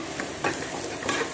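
Green chillies sautéing in a pan for a simple potato curry, with two quick scraping stirs over a soft, continuous sizzle.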